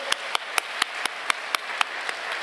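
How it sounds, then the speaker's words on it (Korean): Audience at a church retreat morning worship service clapping in a slow, evenly spaced rhythm of about ten sharp claps, moderately loud and close, with no talking. "박수 한번 주시죠"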